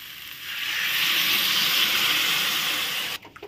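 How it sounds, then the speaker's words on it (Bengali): Potatoes and soybean chunks sautéing with spices in a pan give a steady, close hiss of sizzling that runs broad and even for about three seconds, then cuts off abruptly near the end. "এখন ভালো করে আলু আর সয়াবিন দিয়ে আরেকটু কষিয়ে নেওয়া হলো"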